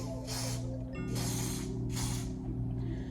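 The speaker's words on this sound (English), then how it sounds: "I'm gonna go in with that super hold olive oil spray and spray it" Three quick bursts of olive oil hair spray hiss out close by, each lasting about half a second, over a steady low electrical hum.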